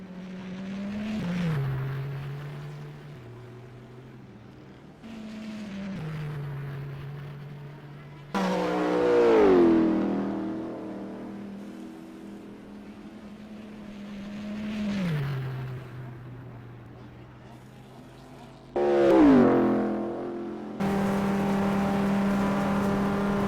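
Race car engines rev and shift at Le Mans in the rFactor racing game, World Endurance Championship 2013, with repeated loud acceleration sweeps climbing through gears, brief drops between shifts, and a sustained high drone near the end.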